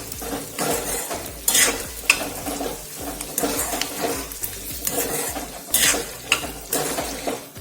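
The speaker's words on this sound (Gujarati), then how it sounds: "આપણા મરચાં સારી રીતે સોફ્ટ થાય ત્યાં સુધી આપણે આ ડુંગળીને અને મરચાંને સાથે સાંતળીશું" Onions and dried red chillies sautéing in a pan, a soft continuous sizzle with scraping spoon strokes and occasional metallic clinks, close and steady, no talking.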